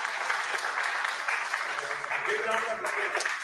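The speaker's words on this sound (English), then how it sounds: "A huge round of applause" An audience at a conference's valedictory session claps steadily for a few seconds, moderately distant, while a voice speaks over the applause.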